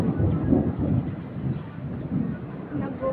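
Deep rumbling thunder rolls through steady rain in a storm, loud and continuous with wind buffeting the microphone.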